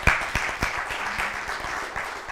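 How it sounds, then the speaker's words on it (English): Summit audience applauding a departing speaker at an energy conference, a dense steady patter of many hands with a few sharper claps standing out near the start, moderately loud and without talk. "please give him a round of applause"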